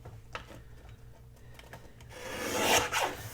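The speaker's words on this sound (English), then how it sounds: "I'm going to have to trim that off just a little bit more." Paper being trimmed by hand while making a scrapbook tag: quiet scraping and rasping strokes that grow louder and denser toward the end.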